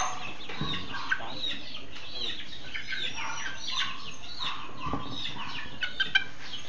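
Class B gamefowl roosters at a game farm cluck and chatter in scattered, overlapping calls, moderately close, with occasional sharp peeps and clicks over a quiet outdoor background.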